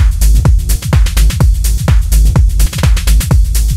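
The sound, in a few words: electronic mix of stereo kick drum with delay and reverb, bass and sub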